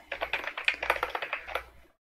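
Rapid typing on a computer keyboard close to the microphone, a quick burst of about fifteen crisp key clicks that stops abruptly.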